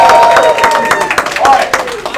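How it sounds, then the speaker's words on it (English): A workshop audience breaks into applause, dense rapid clapping mixed with crowd noise and a few cheers, loud and close, with a voice speaking over it. "give them a round of applause"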